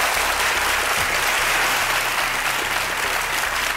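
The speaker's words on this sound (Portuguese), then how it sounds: "aplausos para os dois" Studio audience applause for two interview guests on a Brazilian talk show, a loud, continuous wash of clapping filling the room for the whole stretch, with low hum underneath.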